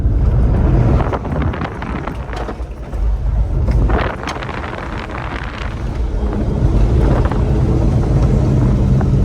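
Wind buffets the microphone as a Chevrolet Silverado show truck drives hard through a corner in second gear with traction control off, engine rumble rising and falling beneath loud gusty noise.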